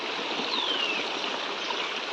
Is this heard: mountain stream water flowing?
yes